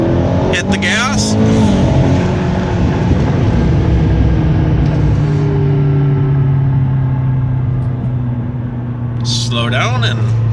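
A salvage-repaired 2015 McLaren 650S accelerates, its engine rumbling steadily and rising in pitch as the revs climb, close and loud throughout, with a brief voice near the start and end.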